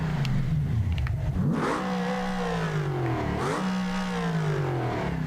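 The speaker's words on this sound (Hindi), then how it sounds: "गाड़ी का इंजन काम कर रहा है नो डाउट, बट वो इंजन टायर को पावर नहीं दे रहा।" A car engine in a downhill driving game revs hard, its pitch sweeping up and down in two long surges while the wheels get no power, loud and continuous with a light clatter early on.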